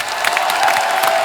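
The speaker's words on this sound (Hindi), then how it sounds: "जोरदार ताली" Studio audience applause and cheering on a comedy show, a short loud burst of clapping with some whoops.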